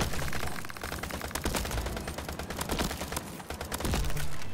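Hip-fired weapon in a roguelike shooter game: dense rapid bursts of gunshots crackle almost continuously at close range, with no speech.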